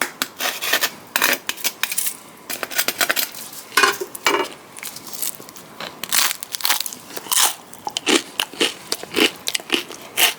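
Repeated crunchy bites into a failed, overly dry focaccia baked in a heavily oiled pan that turned cracker-like, each bite a loud, sharp crackling burst in a steady irregular rhythm, close up with no talking.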